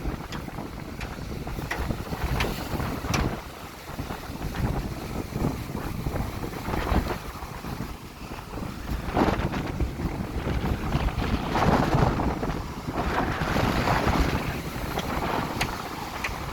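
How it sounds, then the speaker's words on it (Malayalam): Strong monsoon wind on a beach by a rough sea buffets loudly and continuously, gusting up and down over a steady rushing roar, with no one talking. "കാറ്റ് തന്നെ അങ്ങനത്തെ കാറ്റ്"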